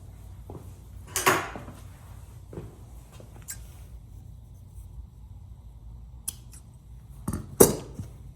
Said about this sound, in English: just cut off this extra fabric.